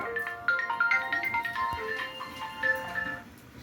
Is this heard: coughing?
no